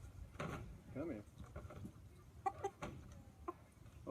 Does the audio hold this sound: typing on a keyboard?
no